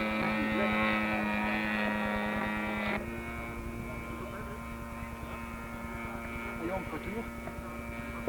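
A model DG 500 glider towed by a propeller aircraft passes low overhead, giving a loud, steady buzzing drone that drops slightly in pitch partway through as it moves past.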